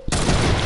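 Sustained burst of heavy gunfire in a shooter video game, starting abruptly after a brief quiet moment and staying loud and dense throughout, more like continuous rapid fire than a single sniper crack.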